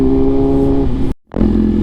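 A BMW S1000RR motorcycle engine drones steadily and loudly with strong harmonic tones, cuts out abruptly for a brief silent gap, then roars back in at a slightly different pitch.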